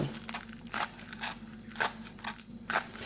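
Scallions being sliced with a knife or scissors on a kitchen surface for freezer storage, a few crisp crunchy cuts at uneven intervals, close and fairly quiet over a faint steady hum.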